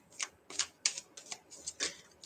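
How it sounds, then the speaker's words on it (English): Tarot cards shuffled by hand, about eight quick crisp riffling bursts in an irregular rhythm, close but quiet, with no talk. "In the meantime, I'm going to just shuffle my cards."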